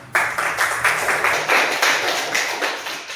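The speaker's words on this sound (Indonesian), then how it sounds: "Oke, tepuk tangan untuk Aruna" A class applauding a classmate in a classroom, many hands clapping in a brisk, slightly pulsing rhythm, close and fairly loud with no talk over it.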